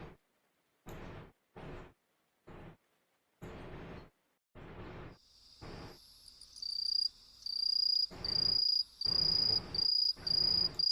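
A cricket sound effect plays as a looping series of short, sharp chirp bursts, at first spaced and intermittent, then denser and louder with a thin high trill running between them, no voices.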